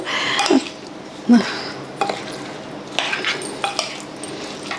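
Mango pickle pounded in a stone mortar, a handful of irregular dull knocks and clinks of stone on stone, close and fairly loud, with short pauses between strikes.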